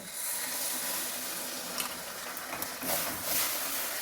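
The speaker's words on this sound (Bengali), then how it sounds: "এবার আমি যে জুসটাকে নিয়েছি অরেঞ্জ জুসটাকে ওটাকে ওর মধ্যে মিশিয়ে দেব" Orange juice poured into hot melted sugar in a pan while making orange candy, giving a steady close hissing sizzle with a few brief louder bursts of bubbling and stirring.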